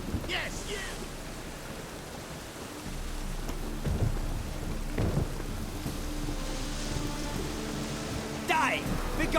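Thunderstorm in The Witcher 3: Wild Hunt, with steady rain hiss throughout and low rumbling thunder swelling midway, a couple of sharper cracks near the end, and game speech faintly mixed in.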